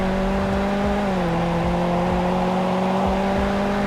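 A car with a 6-speed automatic accelerating hard in the Roblox game Greenville, with a steady loud engine drone whose pitch climbs, dips at a gear change, then keeps pulling, alone without talk.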